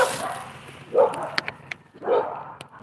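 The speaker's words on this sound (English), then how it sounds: "There goes my dogs." Dogs in a yard give two close, sharp barks about a second apart, with some yips and whimpers mixed in, outdoors with no talking.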